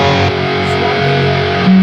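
Electric guitar on a high-gain preset channel rings out a sustained distorted chord, loud and saturated, with a fresh note struck near the end.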